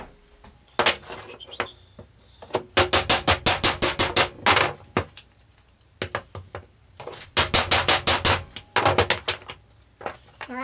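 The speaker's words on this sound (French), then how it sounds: "Donc du coup je vais devoir les éclater avec un burin." A chisel is hammered to break old pegs out of the wood of an old wooden cart under restoration, with two long runs of rapid, sharp, loud metallic blows and a few scattered single strikes between them.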